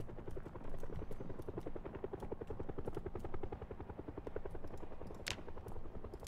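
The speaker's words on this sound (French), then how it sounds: "il y a l'hélicoptère" Rapid rhythmic thumping of helicopter rotor blades in the video game Project Zomboid, steady and fairly close, with a brief sharp swish near the end.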